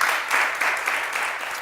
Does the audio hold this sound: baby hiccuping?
no